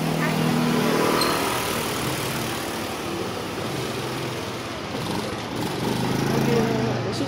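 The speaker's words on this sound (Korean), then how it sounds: "여기 오토바이 너무 많아가지고" Motorcycle engines drone steadily through a narrow street in Masan fish market, a busy continuous rumble with voices of the crowd mixed in throughout.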